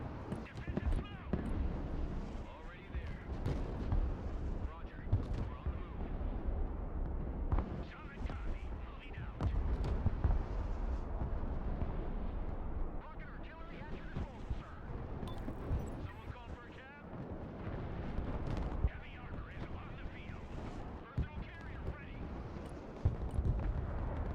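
Artillery barrage explosions in the video game Broken Arrow, a dense run of repeated booms and rumbling impacts mixed with other battle noise, continuing under a player's talk.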